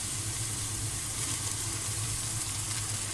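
Tomatoes are added to golden-brown onions and garlic paste frying in a pan for dhaba-style chana dal, giving a steady, close sizzle that hisses evenly throughout with no talking.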